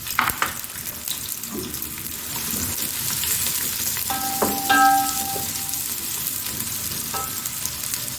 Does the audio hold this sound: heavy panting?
no